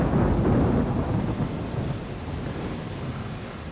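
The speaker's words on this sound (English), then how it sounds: "broken only by the calls of wildlife or the occasional roar of wind, water, and thunder" Heavy thunder rumbles in a wild lakeland setting, loud and rolling at first and then fading into a long, low roar with wind and water noise.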